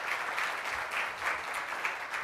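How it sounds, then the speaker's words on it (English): An audience claps steadily at a business relationships talk, a dense, even wash of applause that holds at a constant level throughout. "Give him a round of applause."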